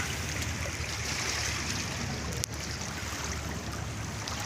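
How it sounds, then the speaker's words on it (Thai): Floodwater from an overflowing river rushes strongly past a flooded ferry pier, a loud continuous broadband roar with a single brief knock midway. "ระดับน้ำไหลแรงนะครับ"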